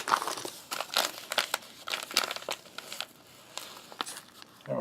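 A foil hamburger wrapper from a Canadian fast-food menu crinkles and crackles close up in quick, irregular bursts with short pauses, and no voices.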